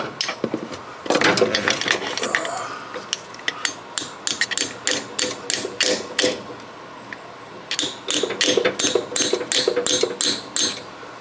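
Sharp metallic hammer taps on a wrench ring out in quick bursts, striking repeatedly with short pauses between runs, close and loud, while installing a 1978 Chevy Malibu throttle cable.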